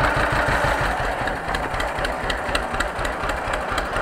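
A John Deere 530 tractor engine idling low at about 500 rpm, just catching on the governor, with a steady close, loud, even chugging pulse and no talk over it.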